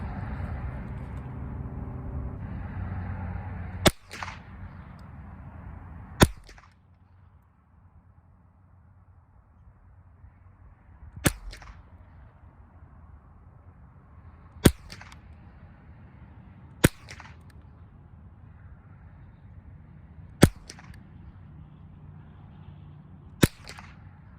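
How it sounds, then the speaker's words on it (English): A tube-magazine gun fires at targets outdoors: seven sharp, isolated cracks spaced several seconds apart, each standing out loudly over a quiet, low background rumble. "it's going to be 3 shots on each target. And then as a little treat for you guys, I'll probably just mag dump into the berm next to it"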